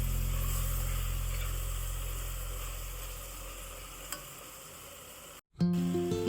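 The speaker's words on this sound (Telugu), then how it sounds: "స్పైసెస్ అన్ని పచ్చివాసన పోయే వరకు ఒక 2 minutes ఫ్రై చేసుకోవాలి ఆయిల్లో బాగా." Ground spices sizzle in hot oil for a mushroom biryani, a steady close frying hiss over a low hum that fades slightly, then cuts out abruptly before a brief tonal sound at the end.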